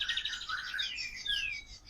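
A caged Oriental magpie-robin sings a bright run of high, sweeping whistles and chirps, loud and close, alone with no voices.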